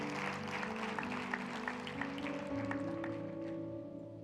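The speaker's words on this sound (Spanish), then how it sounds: "Vamos a dar un aplauso fuerte a nuestro Señor y darle gracias" A church congregation applauds during a Spanish-language Sunday service, soft, distant clapping under sustained organ or keyboard tones.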